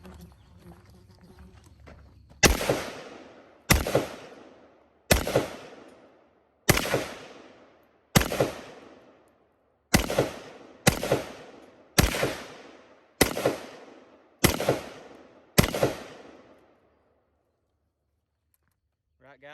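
Rifle rounds fired into an RTS Level IV ceramic armor plate at a range: eleven sharp, loud shots spaced roughly one to two seconds apart, each with a short decaying echo, then quiet.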